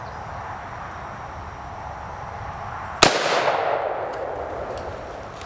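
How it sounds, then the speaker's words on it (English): A single sharp rifle shot from 40-grain .223 Winchester ammunition, fired from a 16-inch barrel, strikes an oil-hardened steel armor plate, giving a loud crack with a ringing decay over steady outdoor background noise. "I'm only shooting the 4th plate that has been oil hardened with 223"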